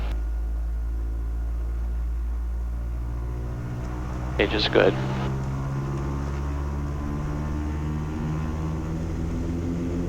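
Twin-engine Twin Comanche airplane engines droning steadily during departure on a hot, hazy July day, a loud constant rumble close by, with a pilot briefly speaking over it.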